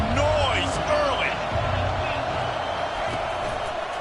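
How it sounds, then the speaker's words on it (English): A stadium crowd cheers at a Georgia Tech versus North Carolina football game, a dense continuous roar with whistles and shouts throughout. "This crowd bringing the energy and noise early."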